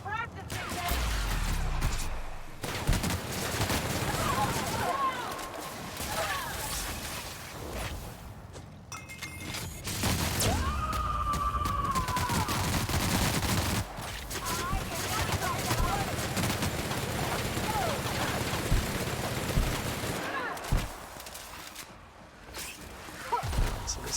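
Gunfights in The Outer Worlds crackle with repeated shots and bursts of rapid fire over a long stretch, loud and close, mixed with impacts and whooshes while a voice talks over the action.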